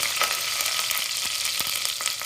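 Mustard seeds spluttering and popping in hot oil for a Kerala-style peas curry, a dense continuous sizzle scattered with sharp crackling pops, close and steady with no talking.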